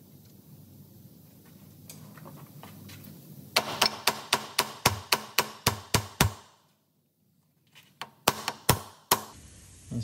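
A hammer taps a pinch bolt out through the front suspension arm of a Ford C-Max: a fast run of about ten sharp, loud metallic knocks close by, a pause, then a few more strikes, with no talk.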